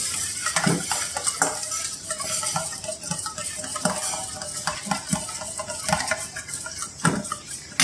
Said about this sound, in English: A pinch of parsley. Mix it well.